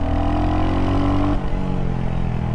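A Royal Enfield Hunter 350 motorcycle accelerates in first gear, its steady mid-pitched engine drone loud and close throughout, with a brief dip near the middle as the note shifts.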